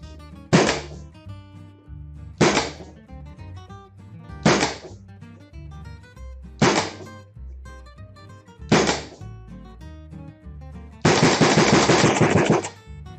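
A regulator-tested Empire Sniper paintball marker fires five separate sharp shots at even intervals, each a loud percussive pop, then unleashes a rapid burst sequence at the end.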